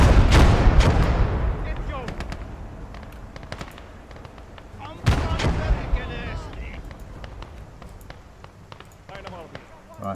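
Mortar and artillery fire in a war video game, with booming blasts followed by rumbling decay and scattered smaller gunfire pops, with voices talking over the battle.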